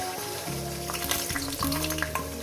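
Beaten eggs with onion and green chilli frying in a pan, a brief close hiss and sizzle with light stirring scrapes over soft background music, no voices.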